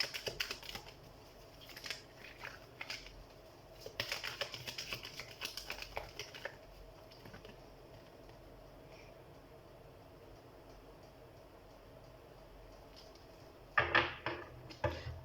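Tarot cards are shuffled and drawn: soft flicking and papery clicks in bursts early on, a quiet stretch, then another brief flurry of shuffling near the end.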